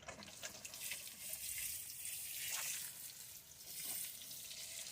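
A steady stream of peroxide solution is poured over potted plants, producing a continuous hissing, splashing trickle that swells and eases over a few seconds, close and fairly soft with no talking.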